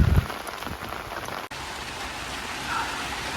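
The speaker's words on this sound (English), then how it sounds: "I love that rain." Steady rain falls on a garden as a dense, loud hiss of drops on surfaces, continuous and close throughout, with a brief sharp tap near the start.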